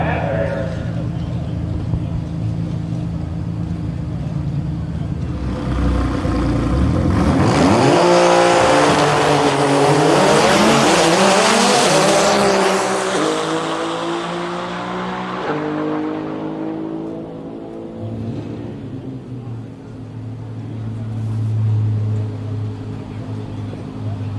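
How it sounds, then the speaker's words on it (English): An Audi drag racing car makes a pass down a drag strip at a racing event, the engine roaring in from afar, rising to a loud, rapidly shifting scream at its peak, then fading as it goes past. "Audi on a pass on the right-hand side of the racetrack."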